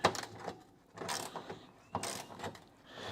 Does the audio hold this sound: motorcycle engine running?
no